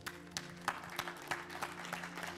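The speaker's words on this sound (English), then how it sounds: "let's give our mothers a standing ovation and a hand clap" A church congregation at a Sunday morning worship service on Mother's Day gives a standing ovation, with a broad wash of applause, scattered sharper claps and a low organ-like tone held underneath.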